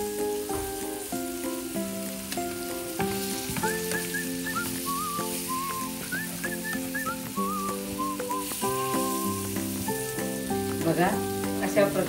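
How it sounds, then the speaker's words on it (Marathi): Fish frying in a pan as pieces are flipped, a loud, continuous sizzle running under background music with a melodic whistling line. "बघा, अशा प्रकारे मच्छी मी पलटी केलेली आहे."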